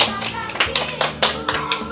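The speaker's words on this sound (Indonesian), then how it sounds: "tepuk tangan kepada kita semua" A handful of sharp claps in an irregular, loose rhythm, like a small group clapping briefly after singing Indonesia Raya, with a soft voice faintly underneath.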